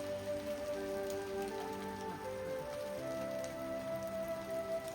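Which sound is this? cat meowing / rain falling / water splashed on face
rain falling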